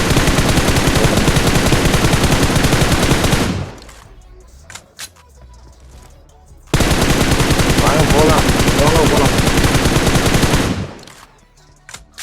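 Sustained automatic gunfire in the PUBG battle royale game, two long loud bursts of rapid shots separated by a quieter stretch with scattered single shots, no talk over the firing.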